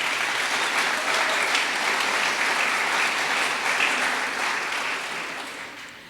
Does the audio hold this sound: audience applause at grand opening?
yes